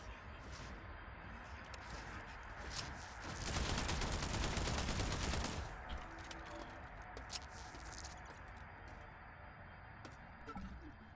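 A weapon firing in the video game System Shock: a sustained burst lasting a couple of seconds, preceded and followed by scattered single shots and clicks over a low ambient hum, moderately close.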